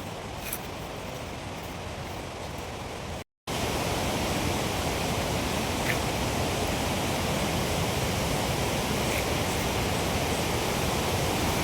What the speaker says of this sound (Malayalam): വാഴച്ചാൽ വാട്ടർഫോൾസിൻ്റെ വെള്ളച്ചാട്ടമാണ്.